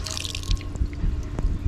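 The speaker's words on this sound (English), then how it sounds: "put some water in this cast iron skillet. Just a little bit to cover the bottom." Water splashes into a cast iron skillet at a campfire, with drips and small gurgles falling close by, loud and unbroken, and no voices.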